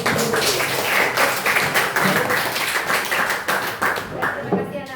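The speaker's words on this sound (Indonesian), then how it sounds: "tepuk tangan kasih aku" Classroom of students clapping their hands together in a burst of applause, a dense patter of claps running steadily for several seconds with voices mixed in.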